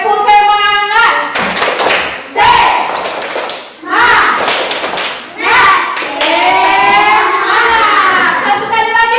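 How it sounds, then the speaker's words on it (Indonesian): Rhythmic group clapping from a class of children doing a spirit-clap routine, sharp bursts of hand claps in short patterns mixed with loud chanted and sung young voices, close and lively. "Kita tepuk semangat dulu. Tepuk semangat."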